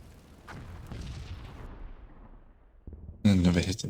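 Gunfire and explosions from the Combat Mission wargame, a run of dull booms and rumbling blasts that fade into a lull, followed by a louder burst of sound at the end.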